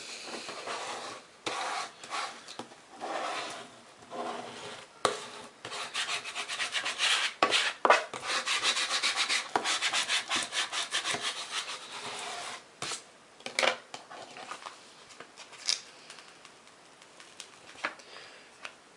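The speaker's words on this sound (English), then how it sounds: "and then squeegee that in" A squeegee presses a vinyl graphic onto a surface in repeated rubbing strokes, close and scraping, with short pauses between bursts and a denser run in the middle.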